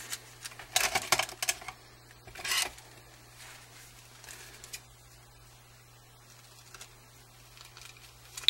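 Scissors cutting through tissue paper at close range, a few soft crisp snips and rustles in two short bursts near the start, then quiet with faint handling.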